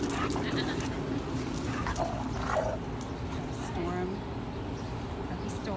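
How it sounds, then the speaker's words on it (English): Dogs playing close by, with a puppy's high yips and whimpers and some barking over scuffling. "and Puppy Storm is a tough player"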